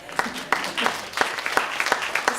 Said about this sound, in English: Can we give some applause for that?